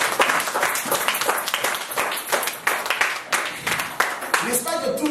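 A church congregation claps and applauds in an irregular, sustained burst of many hands, fairly close, with voices mixed in among the clapping.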